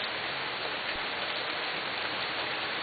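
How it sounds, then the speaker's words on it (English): Heavy rain falls steadily with dense, even hiss throughout and no voices. "Wow, it is so raining, I'm getting rained on."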